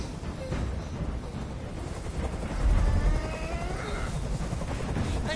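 A helicopter in a video game thrums with a constant rotor drone throughout, loud and close, with a faint mewing-like tone and a brief swell in the middle.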